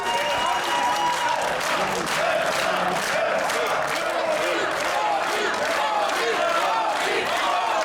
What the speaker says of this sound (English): Just listen to that crowd dichotomy here.